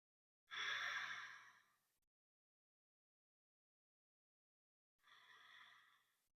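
Two deep exhalations during a beginner yoga flow, long soft breathy sighs close to the mic, separated by a few seconds of silence.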